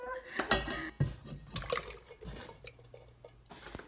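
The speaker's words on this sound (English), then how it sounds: "You could use just water in the tomato soup to rinse out your can, but I am going to use a little bit of this red wine." Red wine pours into an emptied tomato can to rinse it, a short liquid trickle and splash mixed with metallic clinks and knocks of the can, close by, with a voice speaking over part of it.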